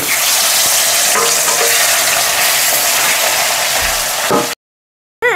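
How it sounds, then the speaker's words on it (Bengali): Fish fries in hot oil with a loud, dense, continuous sizzle up close, steady throughout before cutting out abruptly near the end. "বাকি মাছগুলো আমি একইভাবে ভেজে নেব।"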